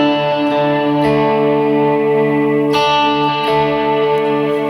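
An electric guitar plays sustained, slightly distorted notes with repeating echoes trailing each strum, giving a layered, washing delay sound.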